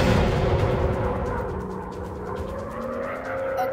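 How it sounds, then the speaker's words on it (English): Bombs exploding in a WW2 dogfight video game: a loud booming blast at the start decays into a long rumbling roar that lingers, with no voices. "Dropping bombs!"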